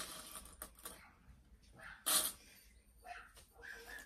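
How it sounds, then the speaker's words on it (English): Dogs barking in the background of a home sewing session, with a sharp, loud bark burst at mid-clip and fainter yips and whimpers around it, no talking. "Please ignore my dogs in the background."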